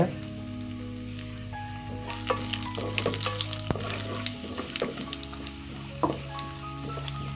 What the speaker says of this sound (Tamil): அதுக்கப்புறமா பெருங்காயம் ரெண்டே ரெண்டு வரமிளகா கிள்ளி போட்டுக்கலாம் இதெல்லாம் தாளிப்புக்காக